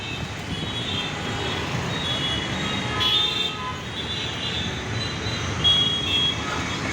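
Vehicles driving out onto a road, heard as a continuous rumbling traffic roar with passing engine noise, moderately loud and steady, with faint higher tones drifting above and no talk.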